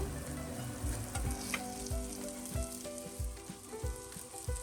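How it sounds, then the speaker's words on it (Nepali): Bitter gourd (karela) fries in a pan, crackling softly and continuously, with regular scraping strokes of a spatula stirring the pieces. "करेलालाई मैले यसरी रातो रातो हुने गरीसम्म भुटेको छु।"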